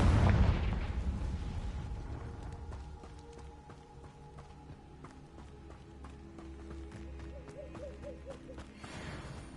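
A Confringo blasting spell exploding in a Hogwarts wizarding game, a loud burst at the start that fades into rumbling debris and scattered clatter, then a second swell near the end.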